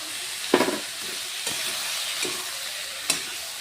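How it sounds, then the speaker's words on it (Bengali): Turmeric, chili powder and other spices fry in a pan with a steady close sizzle, broken by a few sharp stirring scrapes. "হলুদ, লঙ্কা গুঁড়া, শস্য ভেজে দিয়েছি আজকে"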